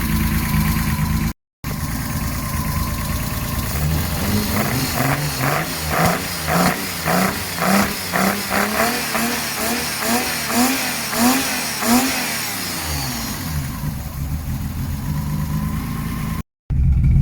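A BMW M52B28 inline-six idles with a steady mid-pitched hum and a regular pulsing throb, heard close and alone.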